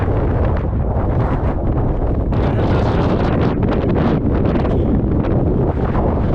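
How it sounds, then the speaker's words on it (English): Strong wind gusting over an exposed hilltop, a loud continuous roar of buffeting against the microphone that swells midway and stays heavy to the end. "It's very windy up here."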